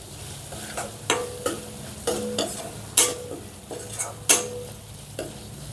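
Okra stirred in a hot pan with chili powder, turmeric and salt: a low sizzle punctuated by sharp, evenly spaced clanks and scrapes of a spoon against the pan, about eight strokes.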